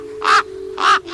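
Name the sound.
raven's cry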